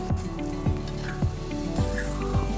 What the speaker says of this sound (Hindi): और इनको फिर अच्छे से फ्राई करेंगे.